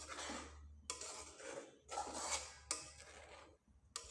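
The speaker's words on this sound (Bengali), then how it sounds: "এভাবে কিছুক্ষণ ভাতের পেস্টটাকে নেড়েচেড়ে একটু ঘন করে নেব" A rice paste being stirred in a pan over low heat, with repeated scraping and clinking strokes of a utensil against the pan, close and moderately loud, in bursts separated by brief pauses.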